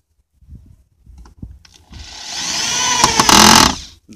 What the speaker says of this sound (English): let's go ahead and screw this guy in.